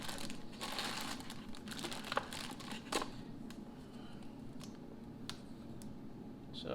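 A plastic bag found on a workbench is handled and crinkled during plywood boat building, giving soft, quiet, irregular crackles and ticks over a steady background hiss.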